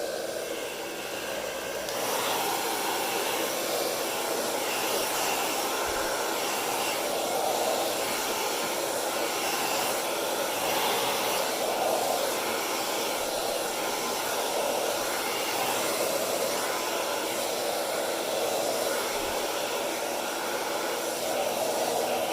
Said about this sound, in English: I may just use the blower at this point because I need to push this out faster.